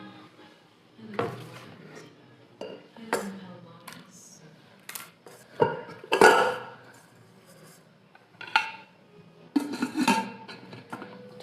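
A small Prestige pressure cooker being handled, giving scattered metallic clinks and knocks of pot and lid that come in short bursts at close range over a quiet room.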